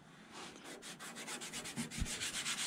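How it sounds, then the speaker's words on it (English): Rhythmic back-and-forth sandpaper scraping on bare metal of a 1970 Datsun 521 truck, steady strokes growing slightly louder, close and alone. "I'm just sanding this thing"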